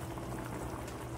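A pot of egg curry sauce bubbles at a steady boil, a continuous soft gurgling and hissing close up, with no voices.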